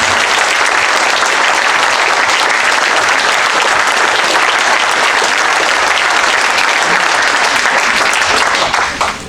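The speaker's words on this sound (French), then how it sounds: "Merci, il faut applaudir. Vous applaudir." Loud, sustained clapping fills a municipal council chamber in Levens, a dense steady ovation lasting several seconds before tapering at the end.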